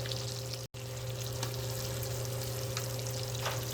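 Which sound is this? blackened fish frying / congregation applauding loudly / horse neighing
blackened fish frying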